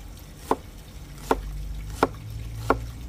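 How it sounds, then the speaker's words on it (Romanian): A knife chops through an onion in four separate, evenly paced strokes, each a sharp thud against the board, close and clear with a faint background hum. "La fel și ceapa. Ia să vedeți ce mare o tai eu."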